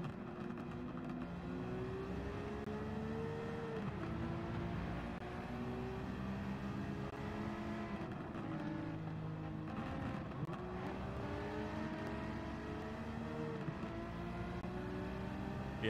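Race cars in Gran Turismo 7, a BMW among them, drone and whine steadily with shifting engine pitch as they accelerate and pass, a continuous loud motor roar throughout with no talking.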